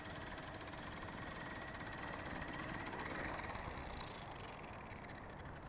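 A repaired Blade 450 3D RC helicopter runs steadily nearby, its small electric motor and rotor giving a continuous mechanical whine and buzz with rattly vibration, holding a constant level throughout with no talking.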